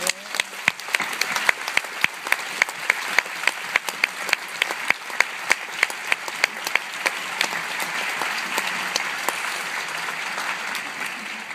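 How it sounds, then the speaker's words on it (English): Audience at a teacher-training graduation ceremony applauds steadily, a dense wash of clapping with crisp individual claps standing out, sustained throughout at moderate loudness. "A rousing applause for our giants,"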